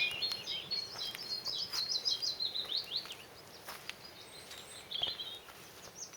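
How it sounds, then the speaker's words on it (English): Several birds sing and chirp in bright, fluttering phrases, fairly close, in woodland over a quiet outdoor background. "lots of birds."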